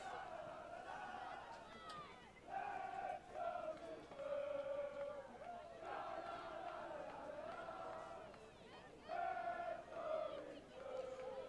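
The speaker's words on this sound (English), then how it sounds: "the crowd's cheering her name" Crowd at a women's college soccer championship chants and cheers a player's name in rhythmic swells, the distant voices rising and falling behind the match broadcast.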